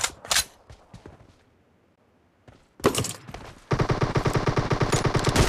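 Sniper gunshots in a team deathmatch shooter game with an M24 rifle: two sharp cracks open, a quiet lull follows, then a burst of shots and a rapid, loud string of repeated gunfire to the end.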